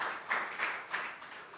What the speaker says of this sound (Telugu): గట్టిగా క్లాప్స్ కొట్టి దేవుని స్తోత్రం చెల్లిద్దాం.